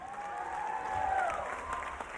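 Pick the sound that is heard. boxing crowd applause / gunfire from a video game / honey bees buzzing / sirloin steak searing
boxing crowd applause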